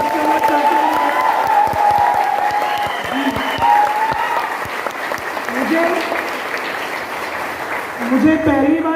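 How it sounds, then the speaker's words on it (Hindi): Audience applause at a Vestige gathering, a sustained dense clapping that lasts throughout, with a voice and tonal sounds carrying over it. "चाहूंगा एक बार दिल से जोरदार तालियां"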